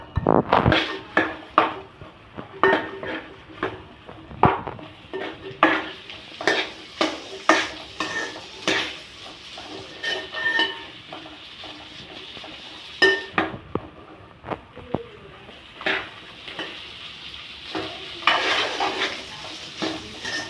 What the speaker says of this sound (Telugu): అలా కొంచెం బాగా నూనెలో ఫ్రై లాగా చేసుకోవాలి